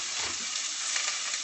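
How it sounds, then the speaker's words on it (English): Onions fry in a hot pan, a steady close sizzle and crackle that holds evenly throughout with no voices. "let these onions cook until they're translucent"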